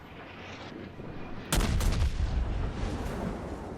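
Warship main-battery guns firing a volley in the World of Warships naval game, a sudden loud booming burst followed by rolling rumbling echoes and a second crack, close and dominant over quiet game ambience.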